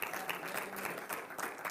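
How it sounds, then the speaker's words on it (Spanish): A church congregation claps after being urged to applaud during a Spanish-language sermon, a moderate, steady patter of many hands at some distance, without talk over it. "Denle un aplauso fuerte a Jesús."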